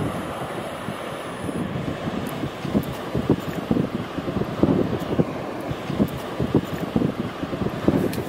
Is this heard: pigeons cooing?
no